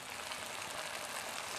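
A clay pot of Luoding black bean chicken keeps sizzling after the heat is switched off, a faint, steady crackling hiss heard close up with no voices.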